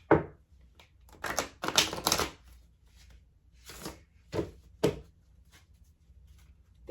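A deck of cards being shuffled by hand, giving a few quick riffling bursts with sharp clacking taps in between, close up and fairly quiet, with no talking.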